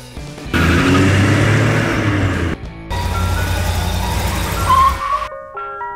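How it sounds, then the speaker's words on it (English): An ice cream truck drives close by with a loud steady engine rumble that runs for about two seconds, breaks off briefly, then resumes. A short tinkling jingle melody plays near the end. "Ice cream truck."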